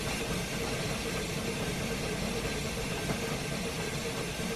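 Steam locomotive blower running in the Railworks train simulator, a steady broadband hiss and rumble that holds at an even level throughout, close and continuous with no talk over it.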